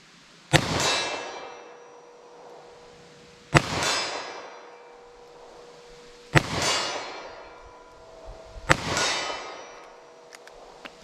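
.357 Magnum revolver rounds fired in a ballistic test: four sharp, loud shots spaced a few seconds apart, each followed by a long ringing decay.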